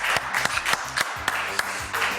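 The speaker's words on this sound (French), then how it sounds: "je vais m'applaudir moi-même si personne m'applaudit" Sparse, scattered clapping from a comedy-show audience, a few distinct claps rising over a quiet room rather than a full ovation.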